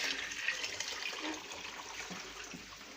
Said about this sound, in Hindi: तो इसमें हम पानी डाल देते हैं।